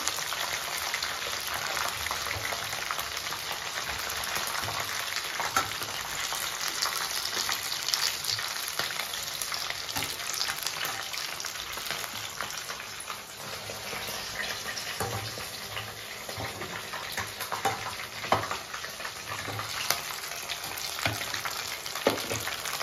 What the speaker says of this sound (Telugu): ఇవి కొంచెం ఫ్రై కావాలండి, ఇవి తిప్పుతూ ఉండాలి.